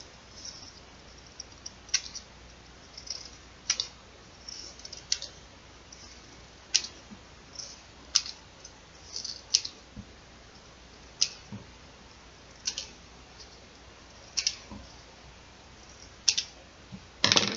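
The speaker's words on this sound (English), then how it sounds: "I'm going to take those scraps that I had And I'm going to cut them" Scissors snip paper scraps into little squares for a craft project, producing quiet, close, irregular crisp clicks and snips spaced a second or two apart over a faint background hiss.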